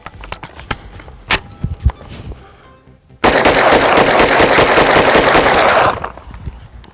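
A few scattered single shots, then a rapid, loud continuous burst of automatic gunfire fed from a 33-round magazine, lasting nearly three seconds before stopping abruptly.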